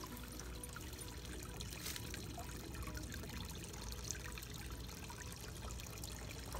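Water trickles and splashes steadily in a hand-built backyard pond, a soft continuous babbling flow heard close with no voices.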